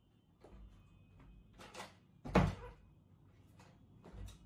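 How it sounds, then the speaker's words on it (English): Jammed door tried and rattled in several bursts, with one loud clattering peak near the middle and softer knocks around it, close by and with no talk. "the door is jammed again"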